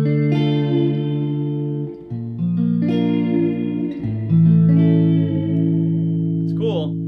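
Surf guitar melody played on a Gretsch through an outboard reverb tank: loud sustained chords and bent notes with a wet, washy reverb tail, changing chord shapes every couple of seconds.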